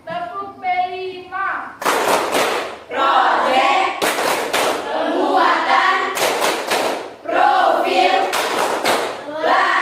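A classroom of students performs the P5 rhythmic clapping chant, bursts of loud unison claps alternating with chanted voices in a repeating pattern, with a teacher's voice heard at the start.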